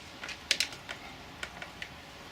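Sharp, light plastic clicks come from a Wunderlich electric sat nav lock snapping into place on a BMW R1250RT. The handful of close, irregular clicks are spaced over a couple of seconds in a quiet setting.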